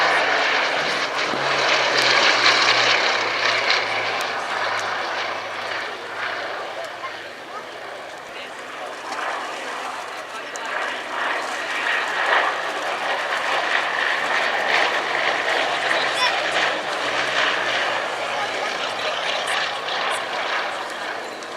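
Bristol Blenheim twin-engine aircraft roaring past at the RAF Cosford Airshow 2018, a loud sustained propeller drone that swells and fades as it passes, with an announcer talking over it.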